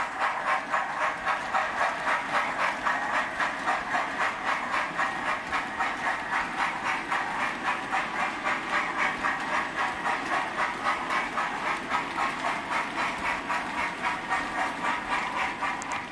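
A Hornby Lord Nelson model locomotive runs along a layout and through a tight radius 2 curve point, giving a continuous whirring mechanical hum with a fast, even rhythmic clatter of wheels and gearing, steady and close without a break.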